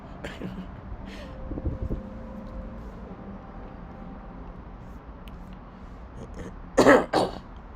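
A sharp throat-clearing cough sounds twice near the end, loud and close, after a stretch of quiet background noise with faint earlier coughs.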